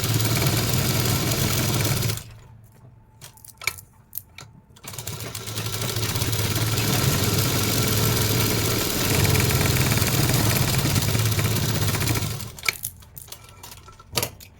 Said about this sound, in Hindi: आप इसको चारों तरफ से सिलाई लगा लीजिए।